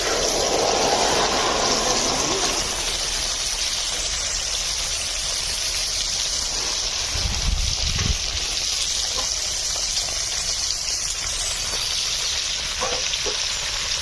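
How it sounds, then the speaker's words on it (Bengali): Water is poured into fried lentils (dal) in a pot, setting off loud hissing sizzle and bubbling over a steady frying background, with a brief heavier gush partway through. "আমার এদিকে ডাল ভাজা হয়ে গিয়েছে, জল দিচ্ছি।"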